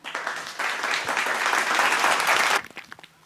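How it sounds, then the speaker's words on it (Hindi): An audience at a school comedy mushaira claps in a dense, loud burst lasting a couple of seconds, then the applause cuts off and a few scattered claps trail away. "ताली बजाना"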